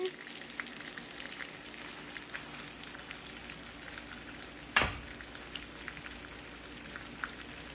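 Salmon fillet frying in a pan, a steady soft sizzle and crackle running throughout with one sharp louder pop near the middle, no talking.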